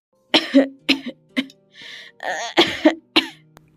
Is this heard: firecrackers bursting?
no